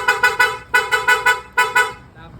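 PIAA horn installed on a Honda ADV 160 scooter gives three quick bursts of short honks, then two more groups of three, loud and close, ending in a faint quiet tail.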